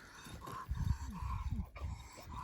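Dog of an old Kurtçu Keleş lineage, strong and straining against a short leash, gives low whining growls and grunting sounds, close and moderately loud, with tonal whimpers recurring over restless rustling.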